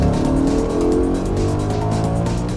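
BMW M3 E46 CS engine roaring loud and close as the car drifts, a steady harsh drone with faint tire noise blended in.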